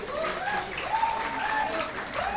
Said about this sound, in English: I'm sure the energies will come back in the room if we clap louder.